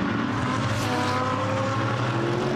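A GT race car pulls out of the pit lane at Brands Hatch during a Blancpain GT World Challenge Europe practice session, its engine a loud, steady roar throughout with a brief rise in pitch partway through.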